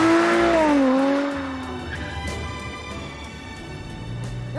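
A sports car's 6-litre V12 engine, developed with Ford, roars and revs, pitch sliding as it accelerates past, then settles into a lower rumbling drone with light ticking.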